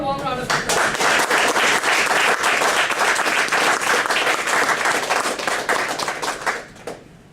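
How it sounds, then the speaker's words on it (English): Applause from an audience at a Toastmasters installation ceremony, dense and loud clapping sustained for about six seconds before tapering off near the end. "Let's give her a warm round of applause."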